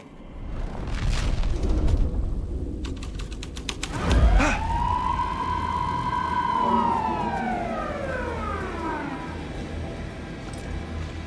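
A police car siren in the video game Alan Wake 2 wails loudly in a long rising and falling sweep after a sharp thump, over a steady background rumble.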